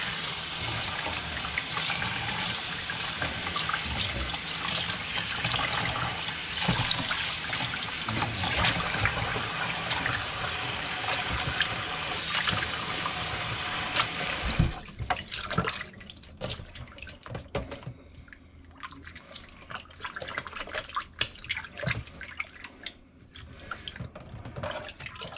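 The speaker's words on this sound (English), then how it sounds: "You're gonna run the water hard so that you can wash the salt out of it." Tap water runs hard into a sink to rinse salt from saltfish for Puerto Rican bacalaitos fritters, a loud steady gush for about fifteen seconds before the flow cuts off, leaving quieter drips and clatter.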